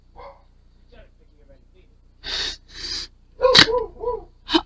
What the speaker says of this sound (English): All the dogs are barking.